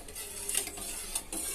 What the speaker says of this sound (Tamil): அடுப்பில் வச்சு அதை நல்லா இப்படி மிக்ஸ் பண்ணி நல்லா நான் கொதிக்க விடுறேன்.